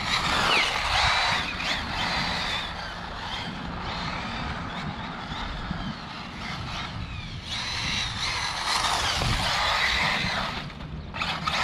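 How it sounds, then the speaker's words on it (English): Losi 4.0 RC buggy sliding through a corner, a steady broadband whir and scrubbing hiss of motor and tyres on loose ground, fairly near and continuous with slight surges, no talk. "It'll just slide through the corner."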